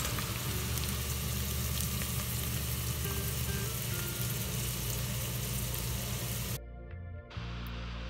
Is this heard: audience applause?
no